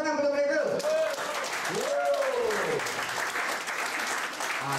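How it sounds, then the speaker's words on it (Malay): Audience applause at a leadership gathering, steady clapping from a crowd for several seconds, running under and around a speaker's voice. "Bagi tepuk tangan pada mereka."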